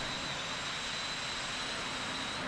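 Aircraft engine hum with a thin high whine, steady and moderately close, from a plane taxiing uphill with throttle added in the X-Plane flight simulator near Monterey, continuous with no voices.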